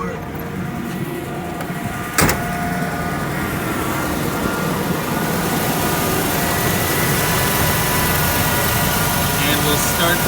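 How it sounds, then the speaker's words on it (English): A 1994 Ford F150 pickup engine runs steadily with the air conditioning on max cold and the blower on full. It makes a constant droning hum, with one sharp click about two seconds in. "And we're gonna start the truck. And AC will be on max AC,"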